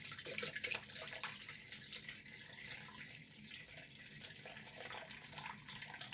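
Room temperature water runs from a tap or jug into a bowl on a kitchen scale for sourdough, a faint continuous trickle and splash with slight surges, no talking.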